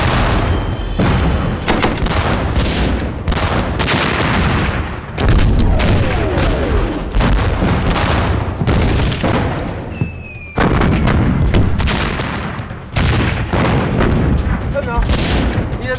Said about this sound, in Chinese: 命令榴弹炮营给老子轰，轰完了再撤